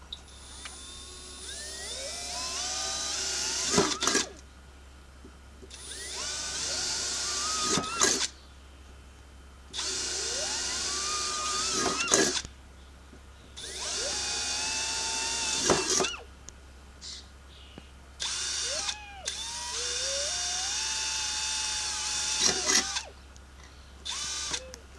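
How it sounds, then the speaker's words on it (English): A power drill bores holes in a metal can for a rocket stove, with several whining bursts of a few seconds each, broken by short pauses, and the pitch rises and falls as the bit bites and spins free. "I'm going to drill some holes."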